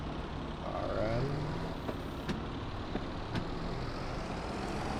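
Farm vehicle driving around a small farm in Farming Simulator 22, a steady engine rumble with road noise holding constant throughout, plus a few brief clicks and faint air-brake-like hisses.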